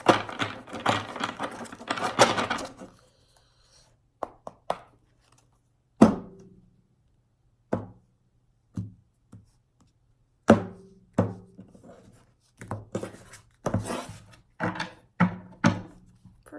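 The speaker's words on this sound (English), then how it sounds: "I'm going to shuffle it 3 times." A deck of tarot cards is shuffled up close, a dense riffling burst at first, then scattered sharp taps and soft slaps of the cards in uneven clusters.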